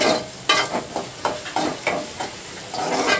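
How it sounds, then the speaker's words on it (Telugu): Onion and green chilli frying in oil in a pan, a steady sizzle broken by repeated scraping stirs about every half second, close and fairly loud with no talking. "ఈ ఉల్లిపాయ, పచ్చిమిరపకాయ కూడా వేయించేసుకోవాలి ఈ ఆయిల్లోనే"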